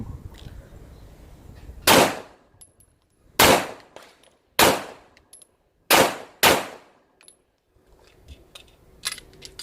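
Five loud, sharp pistol shots from an HS-9 9mm sub-compact handgun crack at a range, the fourth and fifth close together, with brief echoing decay after each and quieter handling clicks near the end.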